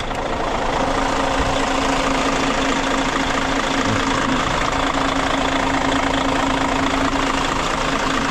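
A tour bus engine idles loudly and steadily with a low droning hum and constant rumble, close by and unchanging throughout.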